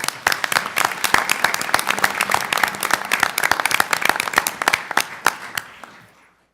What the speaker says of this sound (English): Maybe the only round of applause we get this entire evening.